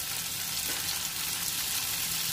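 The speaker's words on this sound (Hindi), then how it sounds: "फिर हम इस पर अंडा डालते हैं" Beaten egg fries in a pan over softened tomatoes and onion, giving a faint, steady, close sizzle with no talking.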